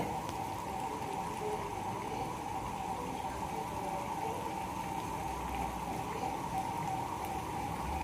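Water poured into a cooking pan during home Bengali cooking gives a steady, continuous watery rush and sizzle that runs unbroken at moderate level, with no talk over it.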